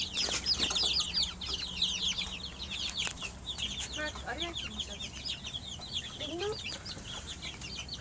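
A flock of 25-day-old Brahma chicks clucks and peeps continuously while eating their evening feed at feeders, with many overlapping close chirps.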